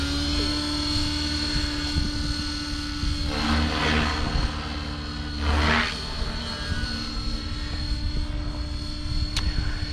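RC helicopter in flight, with its rotor and motor whine held steady throughout and two louder swells as it passes or maneuvers nearby.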